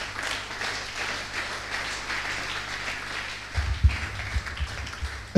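A church congregation at a Sunday service applauds and acclaims the Lord, a steady wash of clapping and cheering carried throughout, with louder low thumps and a burst near the end.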